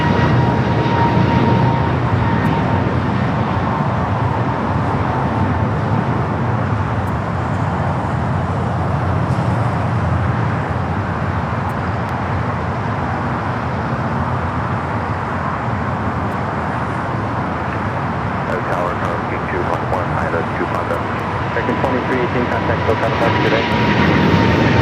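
A JetBlue airliner rolls down runway 25 left at LAX for takeoff, a steady, loud broadband jet roar that holds throughout, mixed with distant traffic noise and occasional voices.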